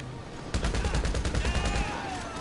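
Rapid gunfire from GTA 5 Online bursts in after half a second, a quick string of loud cracking shots that trails off into a fading electronic tone.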